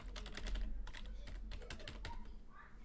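Fingers type on a computer keyboard, a quiet, close run of rapid key clicks with brief pauses, alone with no voices.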